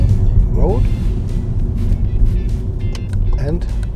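A car passes close by on a busy road in Madrid, its low engine rumble swelling and fading while a person talks over the traffic.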